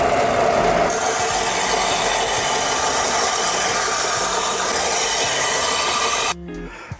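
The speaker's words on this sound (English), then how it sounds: "because it's all outside curves, I'll go ahead and do it here on the belt sander." A belt sander grinds the outside curves of a cut-out wooden board, a loud, steady, close abrasive roar that stops abruptly near the end. No one speaks.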